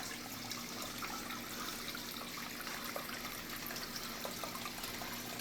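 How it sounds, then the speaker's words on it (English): Water runs steadily through a small, freshly cleaned-out creek channel, making a close, continuous rushing trickle with no voices over it. "Running that water through here."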